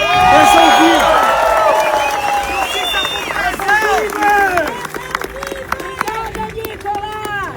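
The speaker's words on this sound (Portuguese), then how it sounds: "E aqui eu peço agora uma salva de palmas pro Clezão." Crowd at an outdoor political march toward Brasília clapping and cheering, loud at first and then thinning, mixed with shouting voices and babble throughout.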